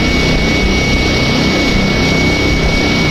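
A Cessna 208 Caravan turboprop engine runs in the X-Plane 11 flight simulator, a loud, steady whine and roar with a fixed high tone, heard alone and unchanging.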